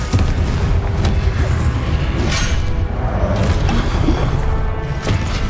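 A Confringo blasting curse explodes in a Harry Potter video game: dense, continuous booming blasts and rumbling impacts fill the whole stretch, loud and close, with overlapping crashes and no speech.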